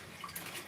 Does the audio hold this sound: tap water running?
yes